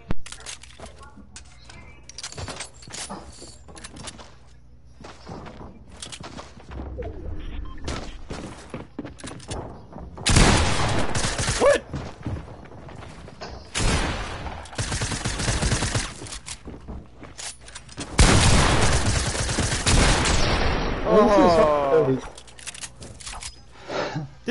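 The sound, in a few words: gunfire in a video game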